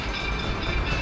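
A steady, loud truck engine rumble with broadband road noise, continuous throughout, as the truck drives along.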